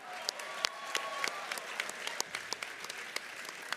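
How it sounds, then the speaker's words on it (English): Applause breaks out for a winning bidder at a charity auction gala, a moderate room of scattered, fairly soft clapping with a few sharper claps standing out, carrying steadily throughout. "Let's give 603 a round of applause"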